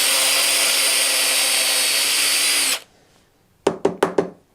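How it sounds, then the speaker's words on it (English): A power drill runs steadily, boring old glue out of the bottom of a utility golf club head during a reshaft repair, then stops abruptly, followed by a few sharp knocks. "I'm going to drill it out"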